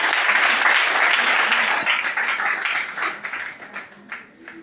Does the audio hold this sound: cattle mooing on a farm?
no